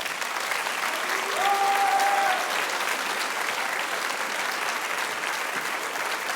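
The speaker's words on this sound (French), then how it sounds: "Je veux des applaudissements pour Maître Bertrand Perrier." A school eloquence contest audience claps for several seconds, a dense steady wash of applause that swells briefly and then holds at an even level.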